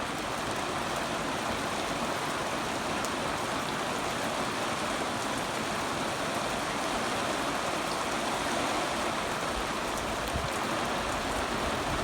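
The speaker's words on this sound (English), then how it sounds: "That's just a small rain." Light rain falls steadily outdoors on open farmland, a constant even hiss of fine drops that is close and moderately loud throughout, with no talking.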